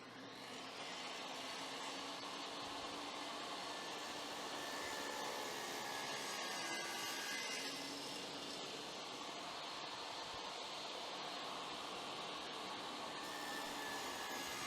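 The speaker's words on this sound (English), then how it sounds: "a dado blade that is just barely sticking up above the table saw, and it is time to cut grooves in all of the side pieces" A table saw fitted with a dado blade cuts grooves in wooden drawer box side pieces, a continuous loud roaring whine with a broad airy hiss that holds steady throughout.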